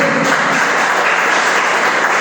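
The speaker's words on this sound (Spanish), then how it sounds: "¿Cuánto le da un aplauso a Jesucristo?" Applause from a Spanish-speaking church congregation during a sermon, loud dense clapping filling the whole short stretch without talk.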